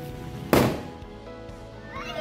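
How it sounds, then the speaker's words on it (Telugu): A single Diwali firecracker bursts at a distance with a sharp crack that fades away, followed by quieter festive background noise. "బాంబులు కాల్స్తున్నారు"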